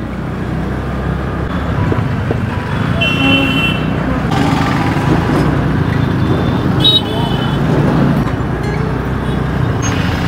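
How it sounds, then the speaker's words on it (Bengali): Dense road traffic on the route from Siliguri to Darjeeling rumbles steadily in a jam while car horns toot in short bursts, a couple of distinct honks standing out over the engine noise. "Vishal jam, Vishal jam."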